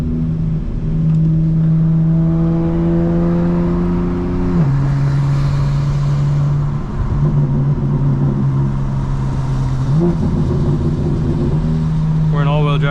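A modified 2025 BMW M4 Competition drives with its exhaust burble switched on, its engine droning loudly and steadily with a pitch dip near the middle, while people talk over it inside the cabin.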